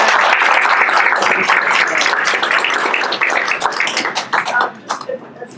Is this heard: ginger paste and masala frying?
no